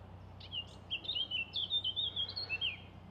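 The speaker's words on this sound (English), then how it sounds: "So we've got a blackcap singing." A blackcap sings a rapid, warbling phrase of high chirps and trills, fairly clear over faint background hum.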